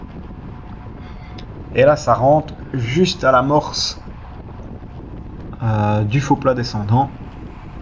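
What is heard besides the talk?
crosswind noise during a bicycle race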